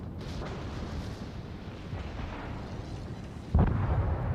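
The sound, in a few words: ship gun shot in the video game World of Warships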